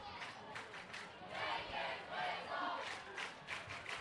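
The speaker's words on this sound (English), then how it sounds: "The crowd chanting, "Take his whistle."" Football crowd at a high school game chanting "Take his whistle" in rhythmic bursts, many voices in the stands rising and falling, distant and faint.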